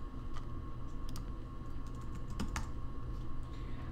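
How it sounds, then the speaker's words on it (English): Fingers type on a computer keyboard, a quick run of light, uneven key clicks heard close up over a soft steady background hum. "what I do is I go in and I type in my name."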